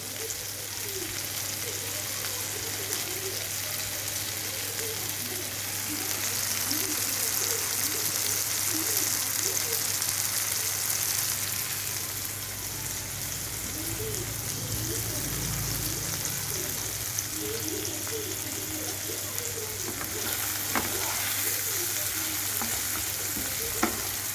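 Semolina sizzles steadily in a hot pan for upma, with a spatula scraping and stirring in repeated strokes throughout; the frying hiss stays close and even from start to finish.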